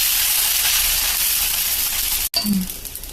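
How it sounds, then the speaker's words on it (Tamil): Dosa batter made with mudakathan keerai hitting a hot pan, a loud, steady broadband sizzle that cuts out abruptly, followed by a brief clatter and softer hissing. "தோசை சூடாகிடுச்சு இதுக்காக நம்ம தோசை ஊற்றிக்கலாம்"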